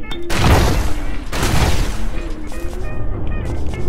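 Grenades explode in the zombie-mafia shooter Guns Gore and Cannoli: two loud, close booms about a second apart, followed by scattered smaller pops and bursts over game sounds.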